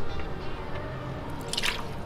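Water dripping from a loosened differential drain plug on a car during transmission and differential fluid service, a few faint drips over steady background noise, one brighter splash near the end.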